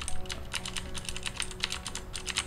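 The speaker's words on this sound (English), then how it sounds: "So I'm going to do a quick typing test for you to kind of discern the difference between the" Fast, steady clacking comes from a typing test on a mechanical keyboard with Cherry switches. Dense, crisp keystrokes follow one another at an even pace, close up and fairly quiet, with no voice.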